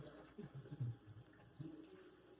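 Water poured into a clay pot, a soft irregular splashing and gurgling at moderate volume with a couple of fuller surges, no talk.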